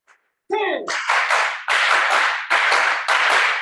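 After a brief vocal sound, hands clap in quick, sharp groups, with two sets of three followed by two sets of two, loud and close.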